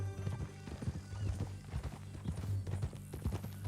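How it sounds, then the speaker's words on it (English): Horse hooves clip-clop in a steady walking rhythm in the Red Dead Redemption 2 western game world, close and continuous under a low background hum, with no talk. "That a new horse?"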